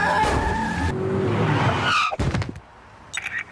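A car skids to a sudden stop with a long, loud tire screech and engine roar, then a few short thumps and scrapes as it halts, with no voices.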